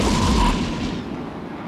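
Faction cruisers open fire in the EVE Echoes space game, a heavy booming artillery-like blast at the start that rolls off into a dull rumbling decay.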